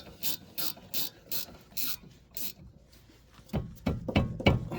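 A ratchet tightens long fine-thread bolts in short bursts of rapid clicking, several evenly spaced strokes near the mic, then a faster, louder run of clicks with scraping metal underneath.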